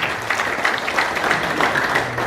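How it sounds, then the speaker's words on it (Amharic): An audience at an Ethiopian Orthodox church teaching gathering claps steadily, a dense, even patter of many hands throughout. "ጭብጨባ የለም።"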